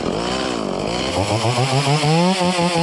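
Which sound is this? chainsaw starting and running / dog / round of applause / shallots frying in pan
chainsaw starting and running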